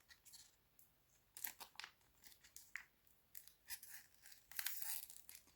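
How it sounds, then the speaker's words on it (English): A sheet face mask packet being torn open along its seam, close and crisp, in several ripping bursts with short pauses, the longest and loudest rip coming at the end. "I'm just going to tear it along the seam and hope for the best."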